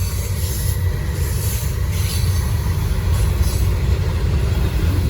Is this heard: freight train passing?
yes